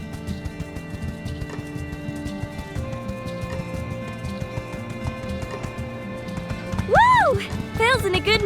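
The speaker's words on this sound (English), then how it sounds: "Giddy up! Come on, faster!" A horse gallops in the video game My Time at Sandrock, its hoofbeats thudding rapidly and continuously, with ambient game music and a brief whinny near the end.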